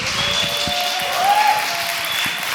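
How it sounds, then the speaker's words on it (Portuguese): An audience claps for a poet at a literary evening in Uberlândia, an even, moderate patter of hands under a faint hum, lasting a couple of seconds without speech. "E eu queria pedir uma palmas para a nossa poeta."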